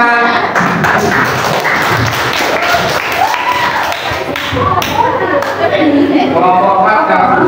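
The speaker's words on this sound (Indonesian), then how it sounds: "Oke, kasih tepuk tangan" A classroom group claps hands for classmates about to present, a steady patter of many hands mixed with voices talking over it throughout.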